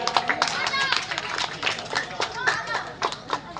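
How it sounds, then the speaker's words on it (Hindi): Children and guests clap at a school prize-giving social event hosted by Sharique Zaika Hotel, with scattered hand claps and a busy hum of voices and chatter throughout. "जोरदार ताली बच्चे, जोरदार ताली"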